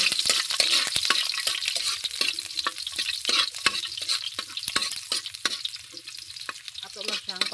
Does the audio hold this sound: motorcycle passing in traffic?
no